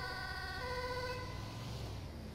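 Ambulance siren in the video game GTA 5, a loud wailing electronic tone that holds steady, then sweeps and fades, with engine rumble beneath.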